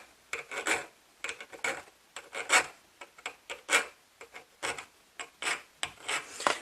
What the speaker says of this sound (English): I'm going to clean up what I've done with like a small rasp or like a small triangular file